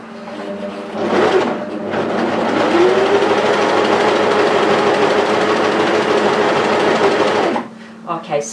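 A cover stitch machine running a narrow stitch on its middle and right needles hums steadily along a longline roll-neck sweater seam for several seconds, loud and close, framed by brief handling clicks before and after.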